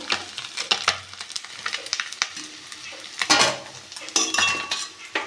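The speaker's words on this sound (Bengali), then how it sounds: "উল্টে পারতে ভালো করে ভেজে দেবো" Parshe fish fry in oil while being turned, with a sizzling bed of sound broken by clinks and scrapes of a utensil against the pan at irregular moments, close and without talk.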